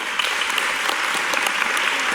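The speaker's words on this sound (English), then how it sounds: "give yourselves a round of applause" A room full of people at a community climate caucus meeting applauds themselves in a steady, moderately loud round of clapping with crisp individual claps throughout.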